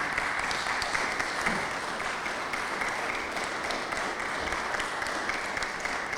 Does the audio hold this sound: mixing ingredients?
no